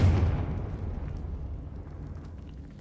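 A Confringo fire-curse explosion from a Harry Potter video game booms loud at the start, then decays into a long, low rumbling tail.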